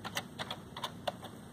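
Someone types on a computer keyboard while testing a USB hub and UART on a Raspberry Pi Zero W: irregular bursts of light, close key clicks, fairly quiet, with no voices.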